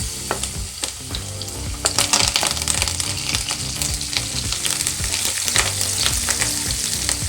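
Mustard seeds, cumin, curry leaves and garlic fry in hot oil with a dense, loud crackle and spatter, plus sharp popping bursts and stirring clatter, and no voices.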